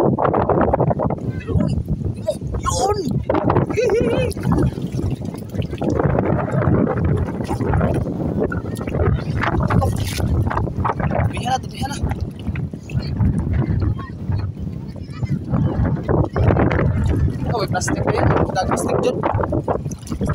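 Strong typhoon wind roars steadily into the microphone for the whole stretch on a rocky shore, mixed with water and motor noise as people talk over it.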